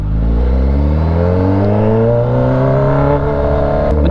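A Kawasaki Z H2 motorcycle engine revs loud and close while cold, its droning pitch climbing gradually and steadily upward over several seconds.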